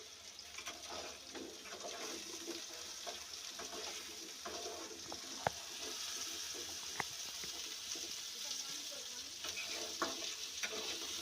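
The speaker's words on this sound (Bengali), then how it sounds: "আলুটাকে একটু ভালো করে লাল লাল করে ভেজে নেবো" Potatoes with a little salt sizzle steadily in a hot pan, frying until browned, with occasional sharp clinks of a utensil stirring against the metal.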